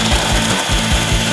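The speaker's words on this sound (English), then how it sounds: "we're going to take our self-tapping screw and we're going to put it into our drill, so that we can put it through here." A power drill drives a self-tapping screw into the metal of an UnderCover Swing Case truck bed tool box during installation, giving a few short, loud, rhythmic grinding bursts close by.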